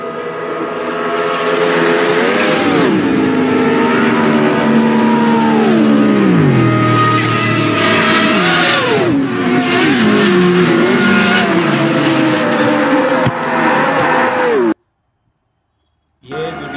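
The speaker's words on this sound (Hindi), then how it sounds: "था कार रेसिंग का आप देख रहे हो कितनी तेज स्पीड से कार है" A race car in a played car racing clip, speeding and revving loudly with engine pitch that climbs and drops repeatedly and hints of tire squeal, before the sound cuts out abruptly near the end.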